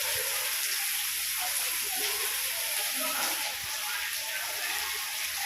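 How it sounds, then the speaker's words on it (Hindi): Heavy rain pours down steadily as a dense, continuous hiss of water that stays loud and even with no pauses. "भयंकर बारिश जो है वो रफ्तार पकड़ी हुई है"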